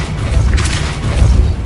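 Depulso spell striking in Hogwarts Legacy, a loud, deep boom with a crashing burst, rumbling through low tones and swelling again near the end.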